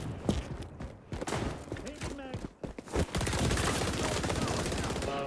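Rapid automatic gunfire in the shooter game XDefiant, dense bursts of shots that turn into a sustained loud volley, with a voice talking over the opening part.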